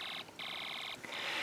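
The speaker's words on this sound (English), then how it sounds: "we can hear the output of the alarm IC through our speaker" Snap Circuits alarm IC sounding through a small electronic kit speaker: a loud, shrill electronic alarm tone in steady bursts, briefly breaking off twice before resuming, with no talking.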